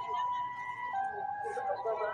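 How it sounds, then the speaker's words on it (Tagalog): An ambulance siren wails faint and distant at the Iron Man 2022 race in Cebu, a steady high tone drifting under low background crowd noise. "Ambulansya guys, ambulansya."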